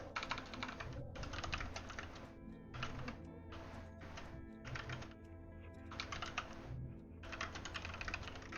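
Steady typing on a computer keyboard, rapid clattering keystrokes in bursts with short pauses between, close and fairly quiet, with a constant background hum and no speech.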